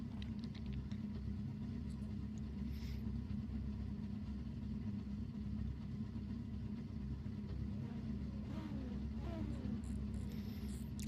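Race cars idle on the starting grid at Brands Hatch in Assetto Corsa, a steady low engine rumble holding evenly throughout, with faint occasional talk over it.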